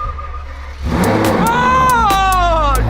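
A car engine cranks and catches after a drop of Valvoline oil is added, then idles loudly with a steady, slightly rising tone, close by.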